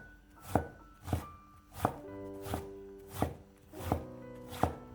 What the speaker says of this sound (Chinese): 再改刀切成细丝，最后切成小丁